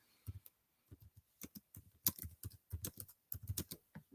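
Someone types on a computer keyboard, a quiet, close patter of irregular key taps in short bursts with brief pauses between them.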